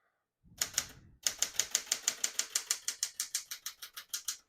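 A 1972 Smith-Corona Classic 10 portable typewriter being typed on, with a brief rustle first, then a steady run of about sixteen crisp, close key strikes in an even rhythm, each sharp and clear with no voice.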